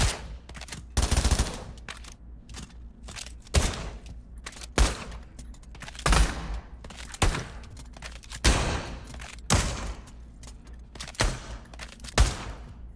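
Bursts of semi-automatic gunfire from the Pavlov video game ring out in irregular clusters of sharp, loud shots separated by short pauses.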